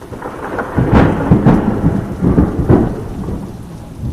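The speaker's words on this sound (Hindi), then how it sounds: "बारिश फिर तेज हो चली थी।" Heavy rain pours steadily while low rumbles of thunder roll in and out, close and full.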